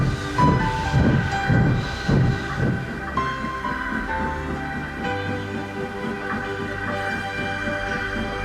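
Thomas the steam engine sets off with a few strong rhythmic chuffs, then steadier rolling rail noise and sustained whistle-like tones, loud and close.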